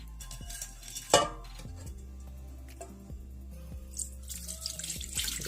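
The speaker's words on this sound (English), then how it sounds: "Now I'm going to sieve the stock into a bowl" Beef and chicken stock for a Nigerian stew pours through a sieve into a bowl in a kitchen, a steady close trickle of liquid with a sharp clink of utensil against the bowl early on and light clatter throughout.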